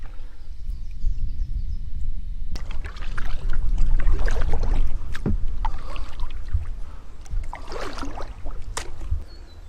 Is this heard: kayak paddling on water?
yes